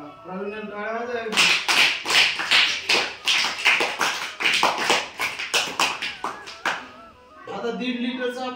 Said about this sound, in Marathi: प्रवीण टाळ्या वाजवा.